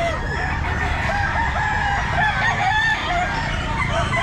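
Several roosters crow at an outdoor pet market, their calls overlapping with scattered clucks against a busy, continuous background of fowl and crowd noise.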